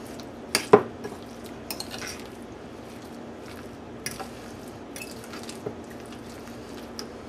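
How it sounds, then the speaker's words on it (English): A spoon stirs a horseradish mixture in a bowl, with soft scraping, a few clinks against the bowl and light squishing over a faint steady hum. "Give that a mix around."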